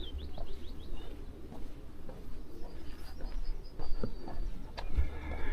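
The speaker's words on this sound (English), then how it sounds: "So I don't know if you can hear the birds." Faint birds chirping and cooing outdoors, scattered short calls over a steady low background rumble.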